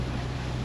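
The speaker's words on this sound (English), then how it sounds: "The port engine, right now I have it just idling, but it's leaking oil." A boat's port engine, leaking oil, idles with a steady low rumble throughout, mixed with wind noise on the microphone while the boat moves slowly on the water.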